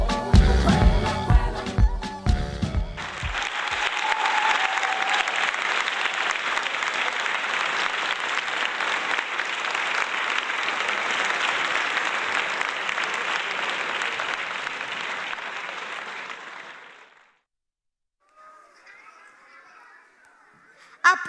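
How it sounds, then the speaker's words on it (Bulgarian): A crowd at a festive-day event applauds after a children's dance performance: music ends, then sustained clapping fills over ten seconds before fading out, and a faint voice follows in the quiet. "Аплодисменти за тези прекрасни момичета!"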